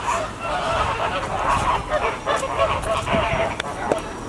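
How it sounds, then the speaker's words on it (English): Ducks quacking and honking near a lake in Karlsruhe, Germany, a cluster of repeated calls close by against a constant outdoor wash of ambient noise. "I hear some ducks."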